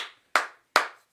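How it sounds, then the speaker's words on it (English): Two sharp, loud group claps about 0.4 seconds apart on a talk show, each a crisp burst with a short ringing tail, then quiet between. "Energy clap."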